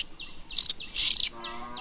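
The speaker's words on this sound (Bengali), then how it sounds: "এই দেখ দোয়েলের বাচ্চা" Oriental magpie-robin (doyel) chicks in a nest in a pot on a rooftop give a few close, high chirps and two louder bursts of bright twittering, with soft calls between them.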